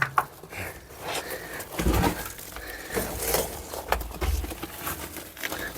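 Soft, low pigeon-like cooing repeated several times, close by, over faint rustling and background noise.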